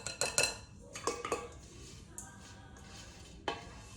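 Metal utensil scraping and clinking against a pan to get the last bits of fruit salad out, a few quick clattering strokes in clusters followed by quieter scrapes and a final clink.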